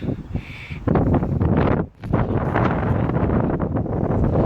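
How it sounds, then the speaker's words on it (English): Loud, steady wind buffeting an outdoor microphone, a continuous rumbling roar that dips briefly near the middle, recorded during rough-terrain testing of an Arrma RC car. "Sorry about the wind"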